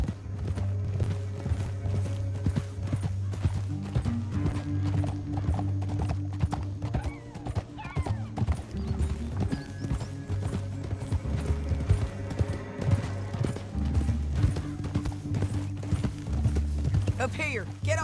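Horses clip-clop steadily through a rocky canyon, hooves beating in a continuous rhythm with an occasional whinny, while voices talk over the riding.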